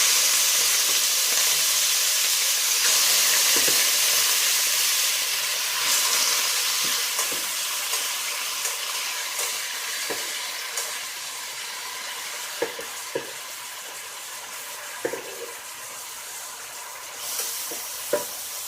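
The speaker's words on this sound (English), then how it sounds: "I'm going to quickly insert my meat." Beef frying in hot oil for a stew, giving a loud, steady sizzle and hiss that slowly fades, broken by faint scattered pops and clinks from the pan.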